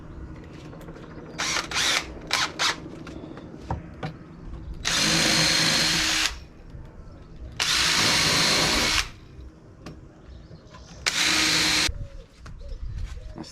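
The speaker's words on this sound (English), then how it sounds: "Right, pilot holes." A power drill bores pilot holes into scaffold-board wood for a garden table top, with three long loud whirring bursts of about a second and a half each, preceded by short trigger blips, and quiet handling noise between them.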